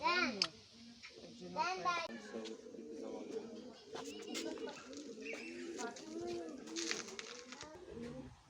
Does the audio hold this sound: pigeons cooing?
yes